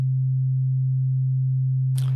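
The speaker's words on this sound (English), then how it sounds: "When I play a sine wave," A synthesizer sounds one pure, steady low sine tone, smooth and unchanging, holding alone before a faint click at the end.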